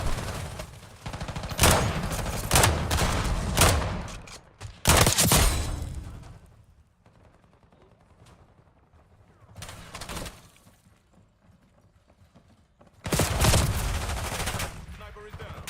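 Gunfire in Call of Duty Black Ops 6, with bursts of loud rapid automatic fire and sharp shots in clusters, separated by quieter lulls, with a few distant pops between.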